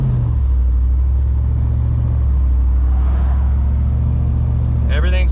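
A Jeep Wrangler with a swapped-in 6.4 Hemi V8 runs with a loud, steady, deep rumble heard from inside the cab, and a voice speaks briefly near the end.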